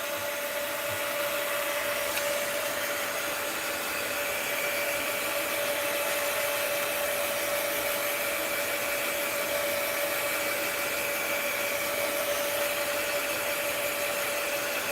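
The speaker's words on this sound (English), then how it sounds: "We're going to hit it with the heat gun again." A heat gun blows steadily on watery paint on an art journal page, a continuous loud whirring hiss with a fixed hum tone running unbroken the whole time, no voices.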